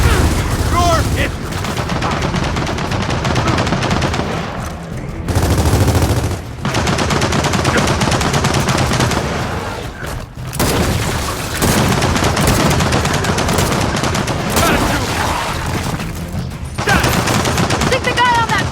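Sustained turret machine-gun fire in the Gears of War 4 game, loud dense bursts with brief gaps, mixed with explosions and battle noise.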